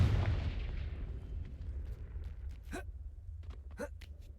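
A Confringo fire-blasting spell in Hogwarts Legacy, heard as a heavy booming blast whose low rumble fades over several seconds, with a few sharp crackling bursts near the end.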